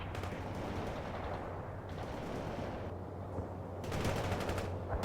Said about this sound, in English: Firing at hostiles.